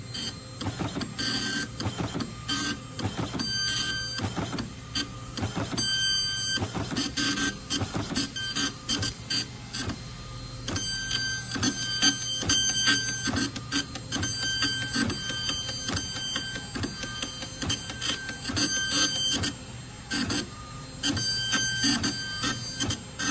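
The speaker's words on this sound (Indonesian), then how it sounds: "Okay, so sekarang ni kita akan print." An Epson LQ-310 dot matrix printer prints a payslip, a loud close rapid buzzing chatter in bursts with pauses as the print head sweeps back and forth and the paper feeds.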